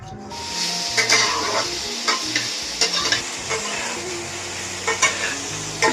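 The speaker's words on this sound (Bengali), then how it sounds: "আমার মা জননী এই যে পরোটা করছে" Paratha flatbread frying in a pan, a steady sizzling hiss broken by soft scraping and stirring knocks, close and fairly loud with no voices.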